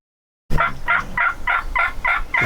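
A wild turkey gobbles during a South Carolina turkey hunt, a fairly close, loud series of about seven rapid, evenly spaced throaty pulses rolling out in one long call, with no talking over it.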